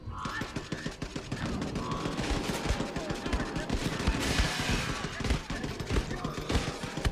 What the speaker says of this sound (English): we're fighting Nazis with guns